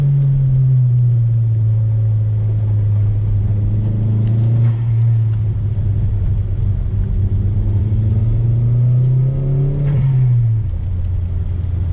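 A Chevrolet Sonic turbo engine drones steadily and loudly on throttle, revving up and holding pitch before easing off near the end, with a deep rumbling exhaust tone throughout.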